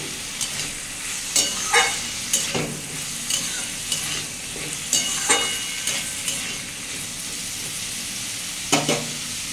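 Banana blossom fries with tomato in a pan, sizzling steadily while a spatula scrapes and taps the metal in an irregular stirring rhythm, close and clear.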